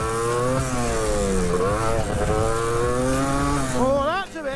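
A 2-stroke motocross dirt bike engine drones loudly and steadily, its pitch rising and falling as the throttle is worked, with quick revving blips toward the end.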